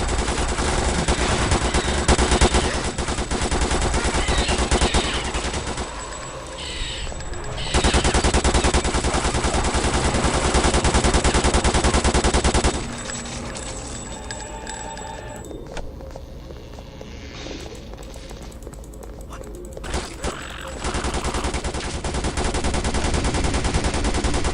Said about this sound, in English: 3 chain guns are better than 2.